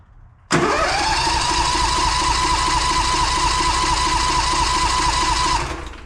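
An engine cold start: an abrupt crank that catches and climbs within a second into a loud, steady, close running drone, which then tapers off near the end.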